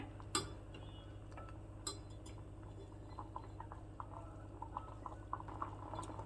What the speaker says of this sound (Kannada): ಇನ್ನೊಂದು ಮೂರ್ನಾಲ್ಕು ನಿಮಿಷ ಈ ಥರ ಕುದಿ ಬಂದುಬಿಟ್ರೆ ಟೊಮೊಟೊ ಚೆನ್ನಾಗಿ ಬೆಂದಿರತ್ತೆ